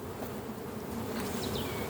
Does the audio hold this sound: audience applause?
no